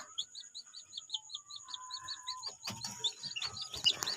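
Newly hatched chicken chicks in an incubator peep in rapid, high, repeated chirps, clear and close, with soft rustling and a few clicks and knocks near the end.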